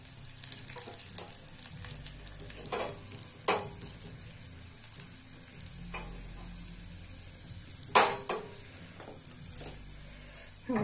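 Chopped suran yam with chili pieces sizzling in a pan, a steady soft frying hiss broken by several sharp scrapes and clinks of a stirring spoon or knife against the pan, close and without talk.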